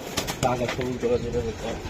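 Giribaz racing pigeons coo in a few soft, rolling bursts at close range, mixed in with people talking nearby.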